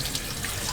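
Tap water runs steadily into a small sink inside a camper van, a continuous hiss and splash heard up close with no talking.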